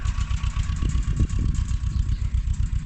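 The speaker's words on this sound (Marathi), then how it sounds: "ट्रॅक्टर चालू झाला आहे आपला" A tractor engine keeps running while ploughing a farm field, a close, steady low chugging throb with a slight rise and fall in the middle, heard alone without voices.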